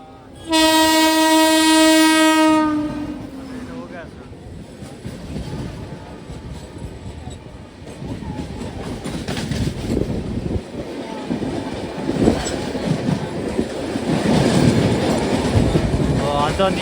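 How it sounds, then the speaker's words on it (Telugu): The Ratnachal SF Express, hauled by a WAP-7 electric locomotive, sounds a loud horn for about two seconds and then rolls past with a building rumble and rhythmic wheel clatter, heard from close by. "ఇప్పుడు ట్రైన్ అయితే ఏదో ట్రైన్ అయితే వస్తుంది"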